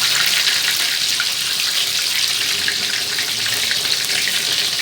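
Whole scored fish frying in hot oil in a pan, a steady dense sizzle that holds at an even, fairly loud level throughout with no talk.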